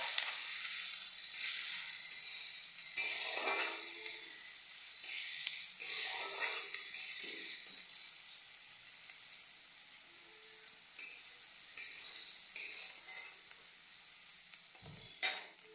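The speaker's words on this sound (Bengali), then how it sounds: "এই দেখো পেঁয়াজ কুচিগুলো দিয়ে আমি একটু পেঁয়াজগুলো ভেজে নেব।" Chopped onions frying in a pan make a continuous bright sizzle with soft stirring scrapes now and then, fairly close and alone throughout.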